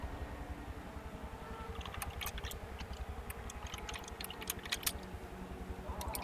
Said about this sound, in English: Do you hear the sound of a massively loud keyboard?